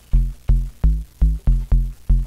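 A sine bass from the Vital synth with a short decay envelope plays alone as seven evenly spaced, punchy low plucks, each dropping away quickly after a firm attack.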